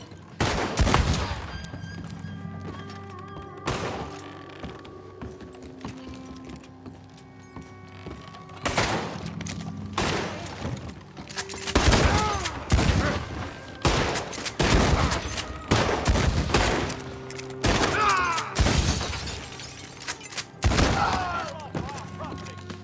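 Repeated gunfire in a Red Dead Redemption 2 shootout in Saint Denis, loud close bursts and volleys breaking out in clusters with pauses between, over a low background hum.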